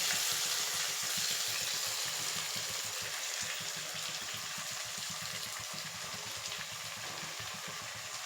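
Soaked flattened rice (poha) for upma sizzles and crackles steadily in a pan with tomato as it is stirred, a continuous moderate frying hiss with faint scraping throughout and no voices.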